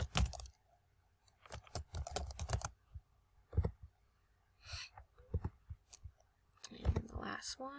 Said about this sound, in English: Type in your different emotions there.